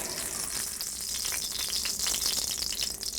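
Pork chop searing in very hot safflower oil in a pan, a loud, close, crackling sizzle that holds steady throughout with no voices.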